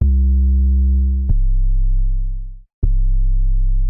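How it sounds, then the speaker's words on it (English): Three deep 808 bass notes from a Serum preset, each a booming sustained low tone with a sharp attack, played one after another and slowly fading. "As far as like 808s in Serum, here's another good preset."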